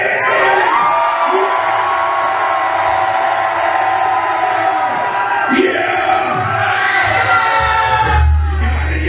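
A concert crowd at a show screaming and cheering together in one sustained, loud roar that swells and holds for several seconds, with whoops rising over it.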